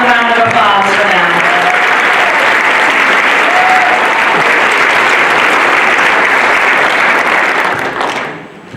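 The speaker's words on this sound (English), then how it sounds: "Yes, definitely another round of applause for them." Loud, steady applause from an audience at the Saranac Lake Winter Carnival coronation in 2023, sustained and dense for several seconds before tapering off at the end.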